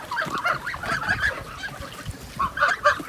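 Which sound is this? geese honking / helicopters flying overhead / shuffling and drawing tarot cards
geese honking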